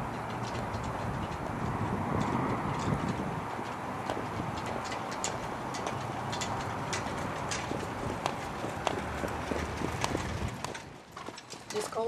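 A young colt walks back toward the barn after a yearling-starting session, hooves clip-clopping steadily at a moderate distance over a constant outdoor background.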